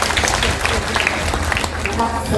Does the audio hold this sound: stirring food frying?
no